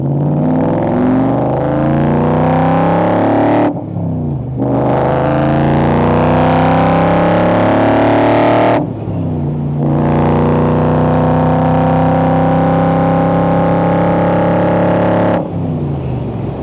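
A Backdraft Racing 1965 Cobra replica with a Coyote V8 roars through the gears, the loud engine note climbing in pitch in three long pulls with short breaks at each shift.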